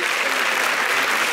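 A French cinema audience applauds after a film introduction by director Pippa Bianco, a dense, steady wash of clapping from many hands with no pauses.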